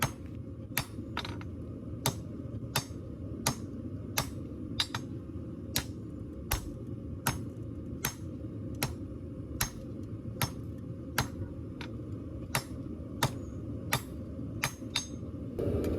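Hammer striking a bowie knife blade on an anvil during hand forging, about twenty sharp metallic blows in a steady, evenly spaced rhythm, with a few quick double taps, fairly close over a low background hum.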